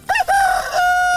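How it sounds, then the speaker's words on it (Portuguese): A rooster gives one loud, close crow, a rising call that settles into a long, sustained final note. "O galo cantando de galo."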